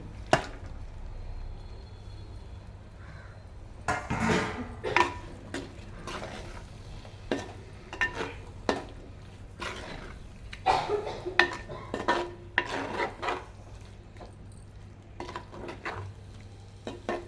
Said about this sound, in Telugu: ఈ గరిటతో మెల్లిగా కలుపుకోవాలి